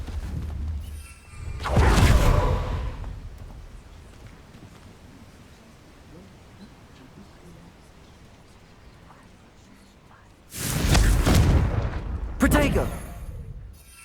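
Confringo fire spell blasting in Hogwarts Legacy, two loud explosive bursts with long rumbling tails, one early and one near the end, separated by quieter combat ambience.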